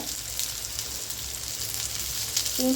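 Crushed garlic sizzles steadily in a frying pan with raw banana pieces for a South Indian vazhakkai fry, a continuous close crackle with a soft clink near the end.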